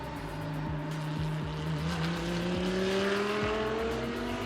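A McLaren and a Lamborghini GT supercar race nose to tail at Sepang International Circuit, their engines a steady, mid-distance drone whose pitch climbs gradually as they accelerate, with no talk.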